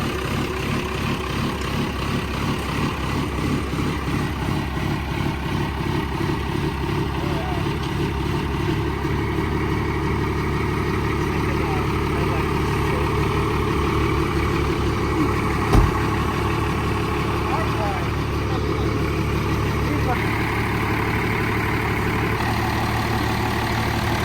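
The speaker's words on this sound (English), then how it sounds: "You gotta hear the thing idle." A 12-valve diesel dually truck engine idles steadily and close, a low rumbling clatter running throughout with a brief knock partway, while people talk over it.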